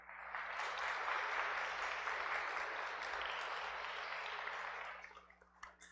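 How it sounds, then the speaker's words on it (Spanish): Church congregation applauding at a Saturday Mass, a steady dense wash of clapping hands for about five seconds that then thins out and stops, with a few scattered claps at the end. "Un aplauso para ellos."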